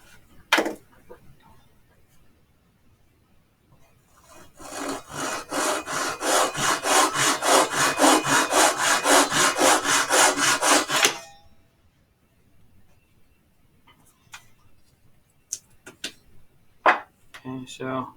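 Hand saw cutting small wooden pieces for a model house, a steady run of rapid back-and-forth rasping strokes for several seconds, close and loud, with brief handling knocks and a little talk around it.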